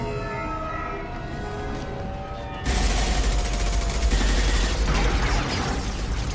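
Gunfire erupts in the sci-fi shooter Mass Effect 2, loud and close, a dense burst of rapid shots with mechanical clatter that starts abruptly midway through after a quieter stretch of tonal ambience.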